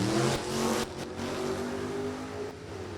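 An NHRA drag race run with a Camaro powered by a 383 small block, its engine roaring loudly at first, then dropping to a sustained revving drone as the car pulls away.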